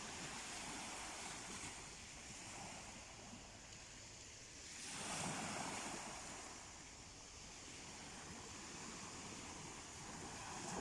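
Sea waves breaking on a Turkish shore at dawn, a steady wash of surf with one fuller swell rising midway, plus some wind noise and no voices.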